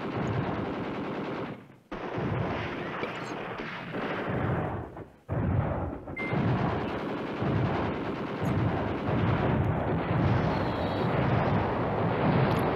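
A battalion comes under heavy artillery bombardment in the wargame Command Ops 2, with a dense, continuous roar of booming shells and rattling gunfire that runs for about thirteen seconds, broken only by two brief gaps.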